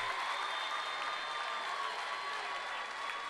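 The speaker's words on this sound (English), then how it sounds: "They're going to get a round of applause." Crowd at a girls' basketball regional championship game applauding the starters as they leave the court, a steady, loud wash of clapping and cheering that holds for the whole stretch with no talk over it.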